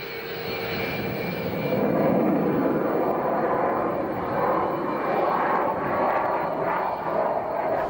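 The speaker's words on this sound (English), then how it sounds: "As gravity pulls the plane earthward, the pilot tips the nose down," A Russian jet fighter pulling out of a steep nose-down dive, its engine a loud sustained roar that swells and wavers as it manoeuvres, with no talk over it.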